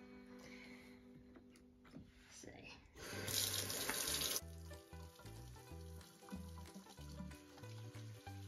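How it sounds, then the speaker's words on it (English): A kitchen tap runs briefly while hands are washed before making chocolate strawberries, a bright rushing burst of water lasting about a second, set against quiet background music with low sustained notes. "the first step before we do any recipes is to wash our hands."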